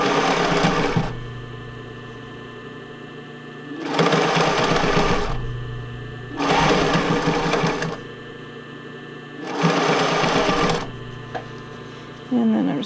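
A sewing machine stitches a tankini piece onto a sports bra in four loud bursts, each a few seconds long, separated by quieter pauses, with a brief start of a fifth run at the end.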